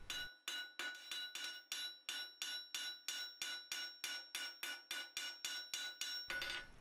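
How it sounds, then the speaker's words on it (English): Steady hammer blows on hot metal at a forge, spreading a disc for a Suffolk latch, about twenty evenly spaced ringing strikes, close and loud, with no talking. "spread the disc with the flat face of your hammer, or with a ball peen hammer if you wish"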